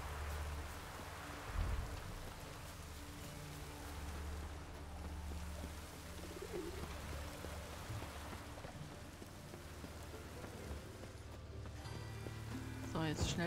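Steady rain in the video game The Witcher 3 hisses and patters continuously across the whole stretch, with a low rumble underneath and occasional soft knocks and thuds.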